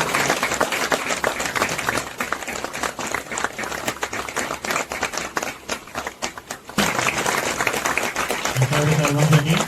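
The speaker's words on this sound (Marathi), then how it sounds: "जोरदार टाळ्या होऊन जाऊ दे एकदा." At a Satyanarayan Mahapuja temple gathering, an audience claps loudly and continuously. The dense applause swells toward the end while a voice speaks over it.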